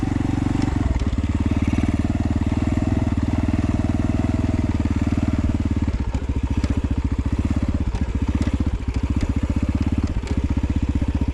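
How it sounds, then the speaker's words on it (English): X-Pro Storm 150 DLX dual sport motorcycle engine running close and loud, a steady rapid thumping putter that dips briefly as the gear changes near the start, continuing under riding noise with no clear talking. "We're riding a dirt bike."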